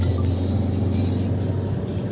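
A Volkswagen Passat diesel car accelerates at full throttle, its engine held back by electronic limits, giving a loud, steady, strained drone heard close up with no speech.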